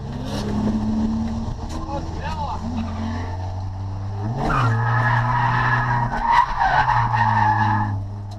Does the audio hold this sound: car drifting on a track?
yes